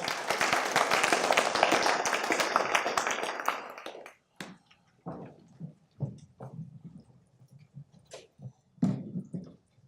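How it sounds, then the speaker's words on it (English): An audience at a blockchain venture capital panel gives a dense, loud burst of applause that stops abruptly after about four seconds, followed by scattered thumps and footsteps as people move onto the stage. "Huge round of applause for these guys."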